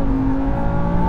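A Lamborghini Huracan Tecnica's 632bhp V10 holds high revs against the rev limiter, a smooth, sustained whirring engine tone that stays loud and steady for the whole moment.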